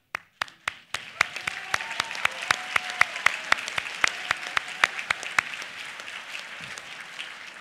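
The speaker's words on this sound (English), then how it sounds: "It's okay to applaud." An audience at a Cooper Union commencement claps for engineering degree candidates. A few scattered claps swell into dense, steady applause that stays moderately loud throughout.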